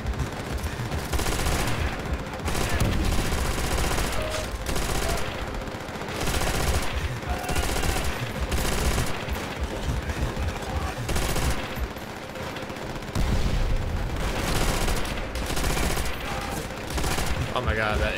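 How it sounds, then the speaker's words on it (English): Mounted machine gun fire in Call of Duty: World at War, dense sustained bursts of automatic gunfire loud and continuous across the whole stretch, with brief lulls and other battlefield shots mixed in. "Oh my god, that MG is crazy."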